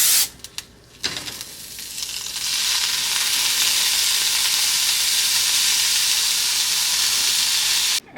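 Tofu with salsa sautés in a slightly dirty pan, giving a loud, steady sizzle that settles in after a couple of brief knocks and rustles at the start, then holds evenly to the end.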